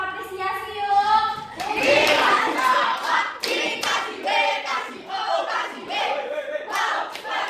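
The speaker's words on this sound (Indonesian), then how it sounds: "Dikasih tepuk apresiasi yuk." An elementary class in a microteaching lesson does a patterned appreciation clap, sharp rhythmic bursts of many small hands in unison mixed with children's chanting voices.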